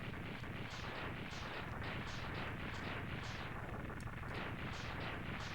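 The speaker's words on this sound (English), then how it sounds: "Even though the explosion is oddly quiet." A burst of explosions in the Mega Man X3 video game, a rapid, dense string of crackling blasts repeating rhythmically throughout, fairly quiet overall.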